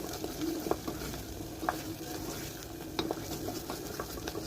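Masoor lentils stirred in a pan with a spoonful of mutton masala, giving a steady low sizzle broken by a few scraping clinks of the spoon against the pan, close and moderately loud, with no voices.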